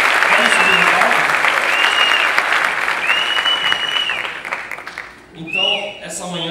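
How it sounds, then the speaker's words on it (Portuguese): A church audience gathered in a cinema gives loud, sustained applause as guests come up onto the stage, the clapping fading near the end as a voice begins speaking. "Queria que vocês recebessem com uma salva de palmas a esses convidados"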